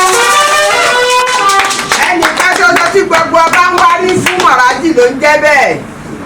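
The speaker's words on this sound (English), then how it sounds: "Let's give our Father another round of applause." An audience claps at a press statement, with sharp, fairly close, uneven claps in bursts. Loud voices call out over the applause throughout, and it drops away near the end.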